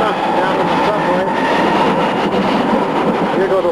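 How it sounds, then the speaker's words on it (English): A Vienna subway train rumbles loudly and steadily through an underground station, a dense continuous roar with metallic squeals and a few faint voices mixed in. "Here we are, Vienna, down in the subway."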